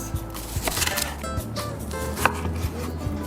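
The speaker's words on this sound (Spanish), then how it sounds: "De igual forma la cebolla la cortamos en cascos grandes." A knife cuts an onion into large wedges on a board, giving a steady run of close, crisp chopping taps under low kitchen background noise.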